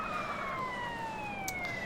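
Police car siren in a video game, a steady wailing tone sweeping slowly downward, loud and continuous, with a faint engine rumble beneath.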